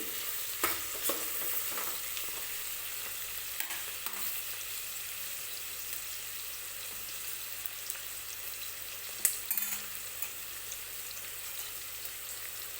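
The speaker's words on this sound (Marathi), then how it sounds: "तेलामध्ये कांदा गोल्डन गोल्डन रंगावरती आपल्याला व्यवस्थित परतवून घ्यायचा आहे" Onion fries in oil until golden for a mutton biryani cooked in a pressure cooker, a steady close sizzle with occasional stirring clicks and scrapes.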